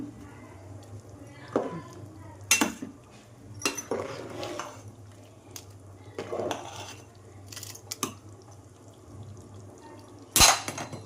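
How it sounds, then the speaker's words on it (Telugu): Chicken biryani rice being mixed in a pot, with a few sharp clinks and scrapes of a spoon against the metal at irregular intervals over a low steady hum, fairly quiet between the knocks. "రైస్ మొత్తాన్ని ఒకసారి మిక్స్ చేసుకుందాం బాగా."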